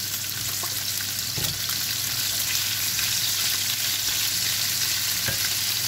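Pork sautés in oil in a pan for a tomato-braised pork and string bean dish, giving a continuous, close, even frying sizzle with faint scraping and no voices.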